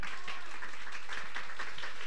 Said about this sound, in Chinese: 给大家掌声耶稣